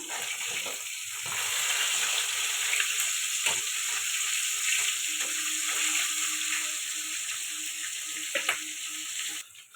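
Fish frying in hot oil in a kadai, a continuous close crackling sizzle lasting several seconds with a few faint knocks, cutting off abruptly at the end, no voices.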